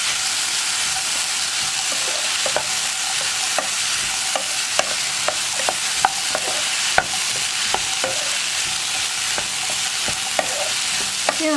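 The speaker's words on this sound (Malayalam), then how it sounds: "ഇനി ഇതെല്ലാം ചേർന്ന് നന്നായിട്ടൊന്ന് ഇളക്കി കൊടുക്കുക" A spatula scrapes and stirs a potato and egg mixture in a hot pan, with repeated clacks against the pan over a steady sizzle, close and moderately loud.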